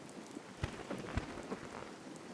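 Steady soft rainfall in the survival video game Card Survival: Tropical Islands, a faint continuous patter with a few slightly louder drops.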